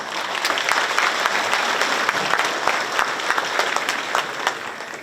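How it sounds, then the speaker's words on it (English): Lively audience applause rings out at a 50 Years of Freedom celebration, a loud, crackling wall of many hands clapping continuously, tapering slightly toward the end. "So give them a round of applause, please."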